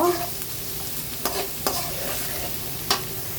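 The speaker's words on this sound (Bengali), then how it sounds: "এখন হলো আমি পেঁয়াজটা ভেজে নিব" Onions fry in a pan for a pabda fish bhuna, a close, steady sizzle with three or four sharp spatula clicks against the metal.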